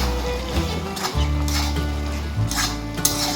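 Crushed cardamom stirred into a simmering bhola fish head curry in a pan, with close scraping and stirring strokes over a soft sizzle and no speech.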